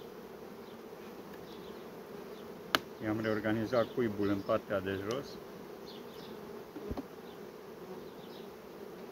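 Honeybees hum around an open hive during a frame inspection, a steady buzz with a louder burst of close wingbeats for a couple of seconds, a sharp knock partway through, and a brief spoken line.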